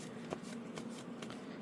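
Trading cards in cheap standard-sized plastic sleeves are riffle-shuffled up close, giving a quiet run of soft, rapid slapping flutters in several short bursts.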